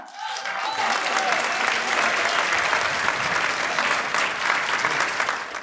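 Hearty applause from a mushaira audience fills the whole stretch, a thick, steady wash of many hands clapping close and loud, with faint voices mixed in at the start.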